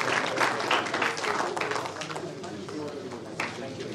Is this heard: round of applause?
yes